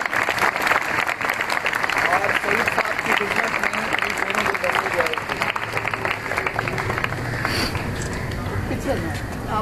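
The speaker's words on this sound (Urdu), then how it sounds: "اس لیے اور بھرپور تالیاں" Sustained, loud applause from an audience fills a school retirement ceremony, with someone speaking over the clapping throughout.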